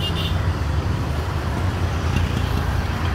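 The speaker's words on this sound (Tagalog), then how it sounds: "ang dami-daming mga gumagalaw na motorsiklo at mga sasakyan" Road traffic of motorcycles and cars passes in Benin, a continuous loud low rumble of engines close by with no voices.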